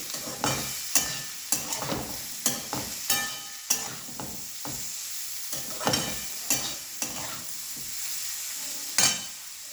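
Onion fries in a pan, sending up a continuous hot sizzle close by, broken by regular clanks and scrapes of a spatula stirring through it.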